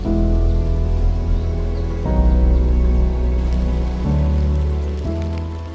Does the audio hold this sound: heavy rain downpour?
yes